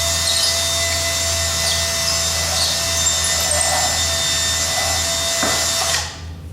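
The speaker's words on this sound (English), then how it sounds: "feel the drill go through" Power drill boring through a drag wire, a steady high whine that runs continuously before stopping abruptly near the end, close and fairly loud with no speech.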